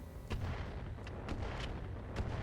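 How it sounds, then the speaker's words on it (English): A mortar round fired at a mech in the video game RogueTech, a few muffled booming thuds and bursts over a dense rumbling battle background, fairly faint. "It's just running some sort of mortar round."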